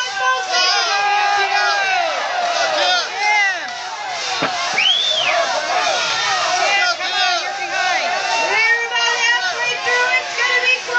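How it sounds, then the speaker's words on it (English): A crowd cheers and shouts at a logging camp lumberjack competition, loud sustained whoops and yells with whistles rising over the babble throughout. "Cheer them on, folks."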